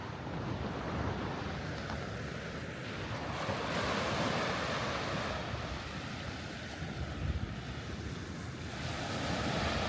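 Ocean waves wash continuously onto the shore, a loud, broad roar of surf with wind gusting across the microphone and no voices.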